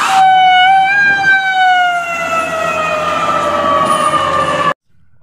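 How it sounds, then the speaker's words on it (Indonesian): A toy ambulance siren: one loud, sustained electronic wail whose pitch slowly falls for about five seconds and then cuts off abruptly, close and clear with no talking. "Kalau yang ini ada ambulans."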